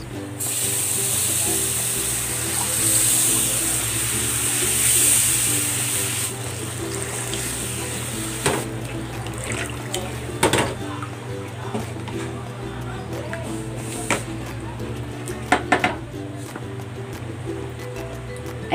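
Water is poured into a hot pan with fried beef and its leftover oil, setting off a steady loud sizzle and hiss that dies down into softer bubbling with a few small clinks, and no voice over it.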